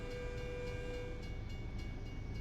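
A train passing a level crossing in the American Truck Simulator video game, a steady, close rumbling roll of rail cars with a faint tonal hum running through it.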